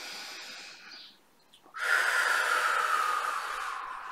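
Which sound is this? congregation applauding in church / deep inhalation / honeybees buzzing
deep inhalation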